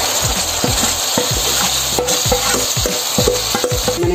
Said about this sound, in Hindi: मैंने टमाटोज डाल दिए हैं।